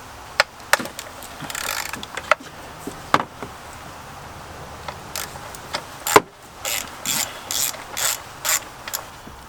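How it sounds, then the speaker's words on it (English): Ratchet with a 10 mm socket and extension loosening a valve cover bolt on a Nissan Versa SL engine: a few sharp clicking bursts and short ratcheting runs, close and fairly loud, with quiet handling noises between them. "you're using the 10 millimeter socket and an extension and a ratchet"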